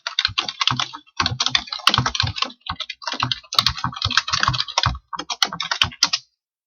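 Bursts of computer keyboard typing while code is written, rapid clattering keystrokes in uneven runs separated by short pauses, close and fairly loud with no voices.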